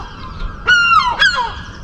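Two loud, nasal seagull cries ring out close by in an English village in quick succession, each call sliding downward, over faint background noise.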